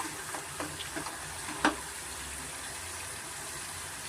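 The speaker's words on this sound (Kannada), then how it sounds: "2ನೇ ಸತಿ ನಾವು ಡೀಪ್ ಫ್ರೈ ಮಾಡೋದೇನೆಂದರೆ ಚೆನ್ನಾಗಿ ಕ್ರಿಸ್ಪಿನೆಸ್ಸು ನಮಗೆ ಕಂಚಿನೆಸ್ ಸಿಗುತ್ತೆ" Tapioca cassava fries deep frying a second time in hot oil, a steady close sizzle with a few soft pops and one sharp crackle partway through, no voices.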